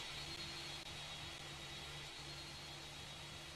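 An airplane in a Roblox game takes off with a steady, loud roaring jet whine and a broad rushing noise, sustained throughout without pause, with no voices.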